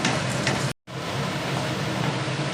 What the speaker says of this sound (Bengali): ফোড়নের জন্য যে মশলাগুলো আমি রেখেছিলাম সেগুলো গরম তেলের মধ্যে দিয়ে দিচ্ছি।